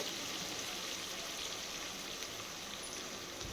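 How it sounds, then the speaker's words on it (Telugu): Two large sliced onions fry in oil for paneer egg biryani, a steady, fairly faint crackling hiss without talk. "నెక్స్ట్ ఈ ఆయిల్లోకి నిలువుగా కట్ చేసుకున్న 2 పెద్ద సైజు ఆనియన్ని వేస్తున్నాను"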